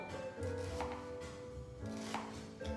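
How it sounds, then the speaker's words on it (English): Knife thinly slicing onions on a board, with a run of close, fairly loud chopping strokes throughout, set against steady kitchen background noise. "So I will thinly slice the onions, if you can see, like this thin, and I'm gonna drop them into my bowl."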